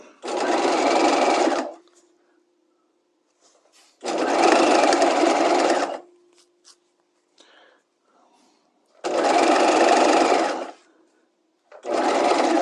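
A sewing machine stitching piping onto fabric runs in three long, close bursts of steady whirring, with a partial fourth starting at the end and quiet gaps between, where soft speech is heard.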